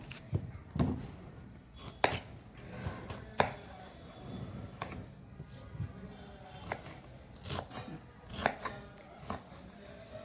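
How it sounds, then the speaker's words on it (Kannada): A knife chops raw mango into small pieces on a cutting board, making sharp, irregular taps in quick bursts, close but fairly quiet, with no talking. "ಈಗ ಇದನ್ನು ಒಂದು ಸ್ವಲ್ಪ ಸಣ್ಣ ಸಣ್ಣ ಪೀಸ್ಗಳಾಗಿ ಕಟ್ ಮಾಡ್ಕೊಳ್ಳೋಣ"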